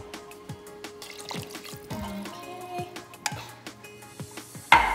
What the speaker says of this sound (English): I'm going to fill this little can up with water so we can get all of the rest of the chilies out.